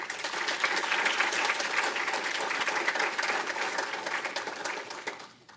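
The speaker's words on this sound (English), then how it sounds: "How about a big round of applause collectively for the 2020 candidates?" Sustained applause from a crowd at the Belle Plaine Bar-B-Q Days 2020 coronation, steady clapping that fills the space before tapering off and fading out at the end.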